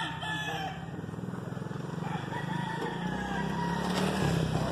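A Lacy gamecock rooster crows on a farm, heard at moderate distance over a backdrop of other fowl clucking and ambient yard noise.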